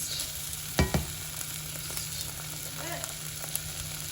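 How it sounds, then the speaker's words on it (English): Onions and tomato paste fry in a pan with a quiet, steady sizzle, broken early by a couple of sharp clanks of a utensil stirring, with no talking. "I'm just gonna let the onions sort of brown up a little. I'm gonna add some tomato paste."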